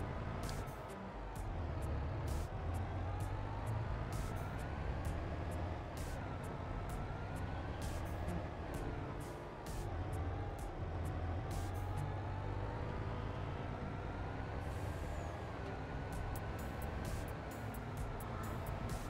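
A tractor in Farming Simulator 22 drives along a road, its engine droning steadily with a slowly rising and falling pitch as it accelerates, with sharp clicks and knocks scattered over the top.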